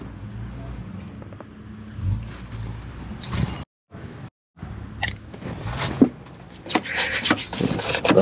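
A stiff brush scrubs hard against a part of a neglected Corvette, one of only 3,385 built, in rough rubbing strokes. Two brief dropouts break the sound midway, and the scrubbing picks up louder and busier toward the end.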